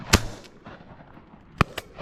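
Two loud shotgun blasts at driven pheasants on a Wiltshire shoot, each a sharp crack with a short rolling tail, about one and a half seconds apart against quiet outdoor background.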